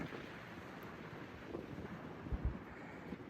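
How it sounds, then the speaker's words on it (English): Wind gusting steadily across an open mountain overlook above a valley near Skyland, a continuous broadband rush with a few louder buffets toward the end and no voices. "Still windy, but what a view."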